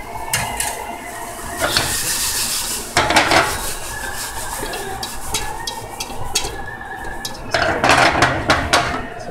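A spatula scrapes and stirs vegetarian taco filling cooking in a pan, with repeated close scraping, rubbing strokes and occasional clinks of utensil against metal, no talking.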